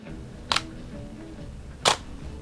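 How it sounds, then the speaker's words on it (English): A camera shutter fires indoors at a slow shutter speed, making two separate clicks: an opening snap, then a closing snap over a second later, close and crisp against a quiet room. "it's gonna drop your shutter speed like crazy. And you'll end up taking a photo and hear this."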